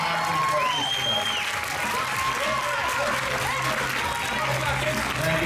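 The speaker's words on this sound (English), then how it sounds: "a big round of applause" Audience applause at a bodybuilding world championship, a steady wash of clapping from a crowd with whistles and cheers over it, continuous through the moment.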